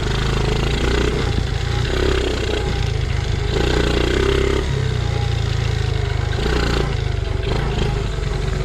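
A Honda Z50R dirt bike engine runs slightly rich with a continuous close, loud putter and uneven rises in revs, its small motor clattering throughout.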